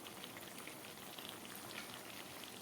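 Broiler chicken curry bubbling in a covered pot, a soft, steady simmering hiss with faint pops, quiet and continuous throughout.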